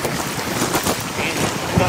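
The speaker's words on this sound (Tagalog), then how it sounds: "Lakas ng hangin." Fierce wind from Typhoon Uwan at Manila Bay roars continuously, a dense rushing noise filling the short clip.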